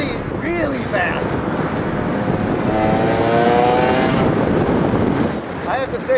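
A lightweight high-performance sports car, such as an Ariel Atom or Gordon Murray Rocket, roars loudly and steadily as it drives fast, with a rising, sustained engine note throughout and a voice briefly heard at the start.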